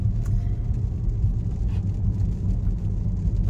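Low, steady rumble of a car's interior while driving, with engine and road noise filling the background and no talk.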